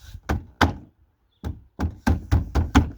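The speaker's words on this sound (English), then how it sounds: "And all you simply do is snap it back into place." A Hyundai Santa Fe door window switch panel being pressed back into place, a series of about eight sharp plastic snaps and knocks, close and distinct, spaced irregularly with a short pause before quicker repeated presses.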